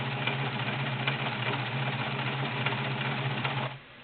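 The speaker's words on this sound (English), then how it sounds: "See the bead dogs working back and forth. That's stretch straight." A Kenmore model 1316 sewing machine runs steadily in a stretch straight stitch, its motor hum and rapid needle clatter continuous and close before cutting off near the end.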